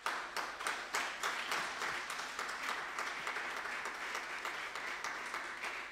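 A church congregation breaks into sustained, dense applause, many hands clapping together at a steady, moderately distant level with no talk over it.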